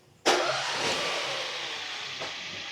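A Peugeot 208 PureTech petrol engine with 40,000 miles cranks and catches in one sudden, loud burst, then settles into a steady, bright running hum close to the listener.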